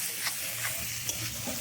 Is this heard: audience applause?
no